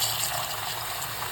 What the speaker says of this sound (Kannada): ಸ್ವಲ್ಪ ಎಲ್ಲ ನೀರು ಬಿಟ್ಟು ಅದನ್ನೆಲ್ಲ ವಾಶ್ ಮಾಡಾಕತ್ತೀನಿ ನೋಡ್ರಿ.